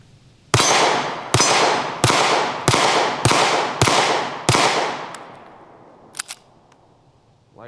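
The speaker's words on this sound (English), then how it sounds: "There it goes again. Yep, light primer strike." A cheap pistol, a Hi-Point or SCCY, fires seven loud, sharp shots at a steady pace with echoing decay, followed by a couple of faint metallic clicks.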